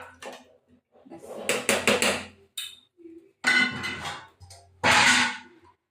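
A lid clatters onto a cooking pot of mutton being braised, with a few sharp metallic knocks and scrapes in separate bursts at close range, and no talk.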